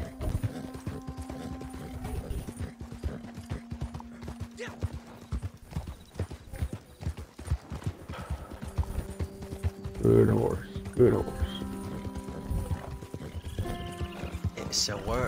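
Hooves of a Clydesdale workhorse ridden in Red Dead Redemption 2 clip-clop in a steady, continuous rhythm throughout, with a brief whinny partway through and a person talking over the game audio.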